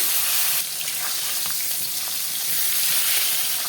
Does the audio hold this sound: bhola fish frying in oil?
yes